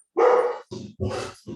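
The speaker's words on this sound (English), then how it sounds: "Somebody get this dog." A pet dog at home barks in three loud, close bursts, the first a long harsh yelp and the next two shorter, deeper barks with brief gaps between.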